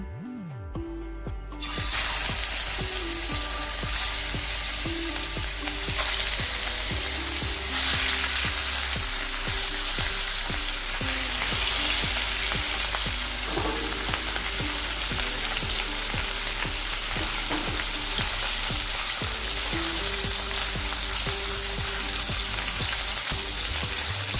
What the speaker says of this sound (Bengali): এবার এই তেলে আমি মাছগুলো ভেজে নেব।